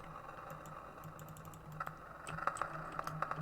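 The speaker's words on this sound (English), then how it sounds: "sorry about the clickety clacks. That is my keyboard." Rapid, irregular clicking of a computer keyboard during a top-down horror-style game session, close and crisp, with a steady low hum underneath and no talking.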